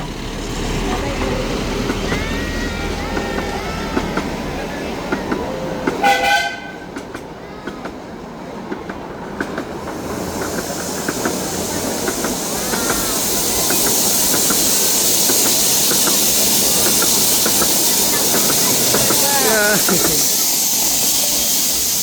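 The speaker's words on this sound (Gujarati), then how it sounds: "તો જો સામે મિત્રો બીજી ટ્રેન આવી ગઈ છે ટ્રોંગ ટ્રોંગ" A train rumbles and clatters continuously, with a loud hiss of steam or brakes building toward the end as it pulls in.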